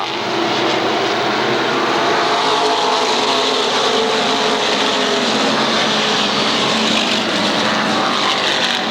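SK Modified race cars roar around the Waterford Speedbowl oval in a 1992 feature race, a loud continuous engine drone that holds steady throughout with no voices.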